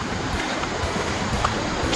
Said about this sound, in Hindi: साइड में ब्यूटीफुल सीन भी है फ्रेंड्स, झरने का पानी जाते हुए